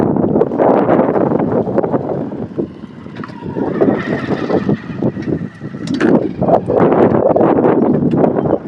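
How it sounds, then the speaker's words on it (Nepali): Strong gusts of wind buffeting a microphone, a loud rough roar that rises and falls, with a faint passing vehicle sound in the middle. "हावा आइरहेछ"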